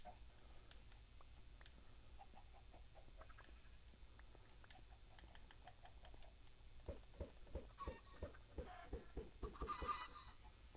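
Chickens in the video game Minecraft cluck in short, repeated bursts, quiet at first and then louder and quicker near the end, with no talking.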